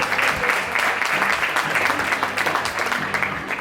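Crowd applause at a women's all-star foosball match in Lugo as players are introduced, loud, dense clapping with a few individual sharp claps and faint voices underneath, continuing steadily.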